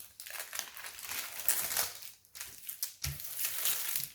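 Thin plastic film on a diamond painting canvas crinkles and crackles in close, soft, irregular bursts as it is laid back down and smoothed flat by hand, with a brief pause before more rustling.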